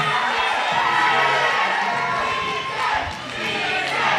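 A crowd at a fitness competition cheers and shouts loudly and continuously, a dense roar with high yells rising over it, swelling again toward the end.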